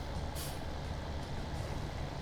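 Inside the cab of a Kenworth truck, a steady loud rumble of engine and road noise fills the space, broken near the start by a short hiss from the air brake.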